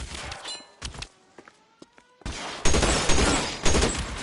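Gunfire in the video game L.A. Noire rings out as a few sharp shots early on, then gives way to a loud, dense volley of continuous firing that dominates the second half, close and punchy.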